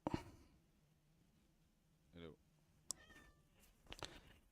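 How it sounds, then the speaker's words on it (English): A cat meows a few times indoors, brief faint calls scattered through a quiet room with low background noise, near the microphone but soft. "And the cat is back."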